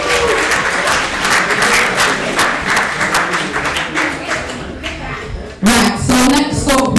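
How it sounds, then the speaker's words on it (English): Loud, dense applause from a student crowd at an election results announcement, a continuous roar of many hands clapping that dips briefly near the end before a voice cuts in over the last moments. "Can I get a round of applause,"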